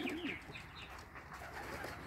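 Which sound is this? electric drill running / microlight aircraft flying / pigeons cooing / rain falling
pigeons cooing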